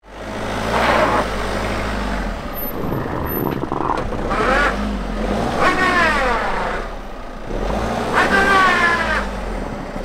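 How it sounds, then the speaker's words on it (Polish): A camper van stuck in snow revs its engine repeatedly while reversing, loud and close, in rising and falling surges, with brief talk between them. "możemy teraz cofać, więc cofamy"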